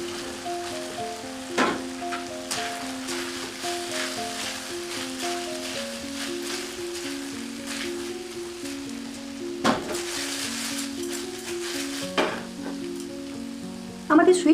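Sweet potato balls fry in a pan with a steady, soft sizzle and a few sharp stirring clicks, and a faint tonal hum runs underneath.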